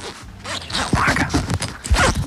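A tent zipper being opened at a campsite tent, a series of quick close scraping zips with a louder pull near the end, fairly soft, with no voices over it.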